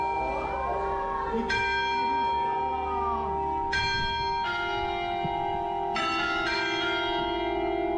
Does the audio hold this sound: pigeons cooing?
no